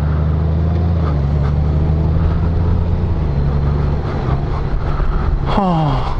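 A 2018 Honda Gold Wing motorcycle with an automatic clutch pulls away, its engine a steady low hum and drone under loud wind rush, with a brief rising whine near the end.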